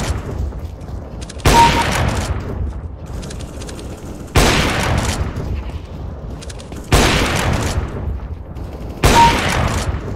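AWP sniper rifle no-scope shots in the video game CS:GO: four loud, booming single shots spaced a couple of seconds apart, each followed by a decaying rumble, with no talking.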